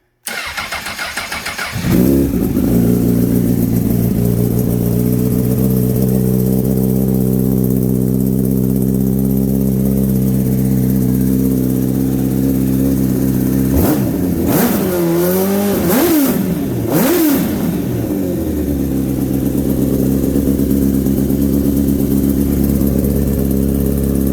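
A 2006 Honda CBR1000RR with a slip-on exhaust cranks and fires, then settles into a loud, steady idle, with a few quick throttle blips midway before returning to idle.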